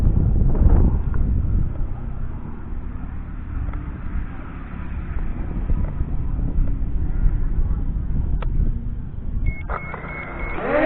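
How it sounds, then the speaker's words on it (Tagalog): Steady, loud wind buffeting the microphone of a JJRC X12 Pro drone during a test flight, a continuous low rumble throughout with a couple of faint electronic beeps near the end. "Medyo malakas ang hangin."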